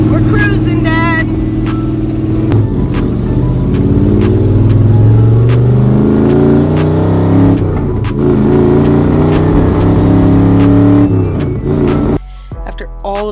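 A 1971 Chevrolet El Camino fitted with Hooker headers cruises along, its engine droning loudly and rising and falling in pitch through shifts and revs, with a few brief voices and a sharp cutoff near the end.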